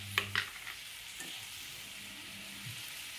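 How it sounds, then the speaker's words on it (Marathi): Kashmiri chili powder hitting hot oil in a pan, a bright steady sizzle that swells as it lands with a couple of quick clinks at the start, close and without talk. "तर आता ही मिरची पावडर टाकत आहे मी ह्यातमध्ये"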